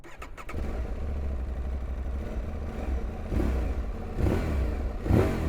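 A 2025 Aprilia Tuareg 660 twin-cylinder motorcycle engine runs steadily while riding, loud and close, with deep throbbing and brief rising revs near the end.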